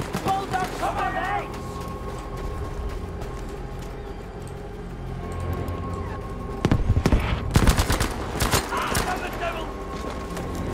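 Gunfire in Battlefield V, with bursts of rapid shots rattling out loudly in the second half over game noise, while players talk.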